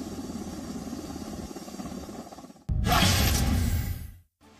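A helicopter refuelling in mid-air gives a steady rotor and engine rumble, then a loud broadband roaring rush that swells for over a second before cutting off abruptly.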